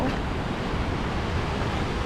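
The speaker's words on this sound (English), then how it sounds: "The waves are so loud, it's just so peaceful." Loud ocean waves roll onto a beach beside a temple, a steady broadband wash of surf with no distinct breaks, close and continuous throughout.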